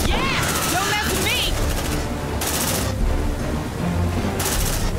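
Sustained bursts of gunfire in the Aliens: Dark Descent video game, loud and continuous with sharp broadband volleys, while a voice talks over the shooting.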